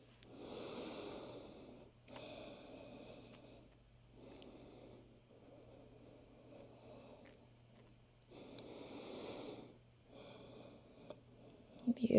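Slow, deep breaths during a yoga stretch, several long airy inhale and exhale cycles heard close and fairly faint, with quiet pauses between them and a low steady background hum.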